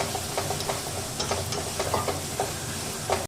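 Ground chicken paste stirred into a hot pan for chicken paratha filling, a steady close sizzle and hiss broken by repeated scraping stirs, ending abruptly.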